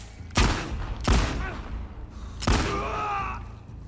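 Gunfire in The Last of Us Part II: three loud, booming shots spaced about a second apart, each with a sharp attack and a rumbling tail, heard over a low game background with faint voices.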